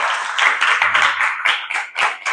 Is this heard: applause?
yes